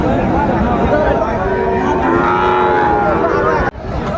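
Shahiwal bulls moo in long, drawn-out calls at a cattle market in Chittagong, close and loud, with a brief cut near the end.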